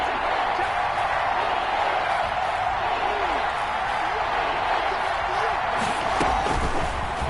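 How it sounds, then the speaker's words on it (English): Stadium crowd in a football video game roars with a broad, steady wash of noise, swelling slightly, with someone talking over it. "The crowd getting into it"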